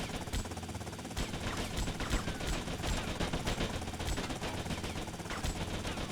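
Rapid gunfire in GTA Vice City, a steady stream of close, loud shots hammering away for several seconds with brief gaps, no talking over it.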